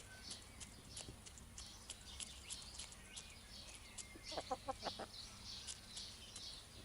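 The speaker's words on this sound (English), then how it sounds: "So another chicken's come over to have a bit of a peck." Chickens cluck softly while pecking at feed: a quiet flock gives scattered short calls and a quick run of clucks near the middle, over a low steady background hum.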